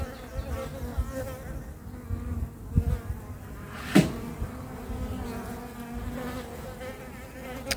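Bees buzz steadily around an open hive, a close, dense hum with a few light knocks and taps scattered through it.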